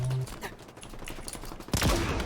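Rapid gunfire bursts from the Hydra weapon in the video game Halo Infinite, loud and close, a dense volley in the first half followed by a sharp, heavier blast near the end.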